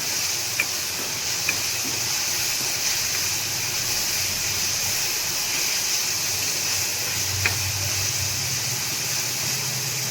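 Raw karamda berries cooking in hot oil for a Gujarati sambharo: a constant soft hiss and sizzle with a few faint pops and ticks, close and steady, with no talking.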